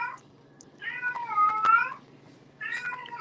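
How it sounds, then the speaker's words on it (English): A house cat meows indoors in long drawn-out cries, two loud wailing calls close by with a shorter one at the start, over a low steady background hum. "that's my cat."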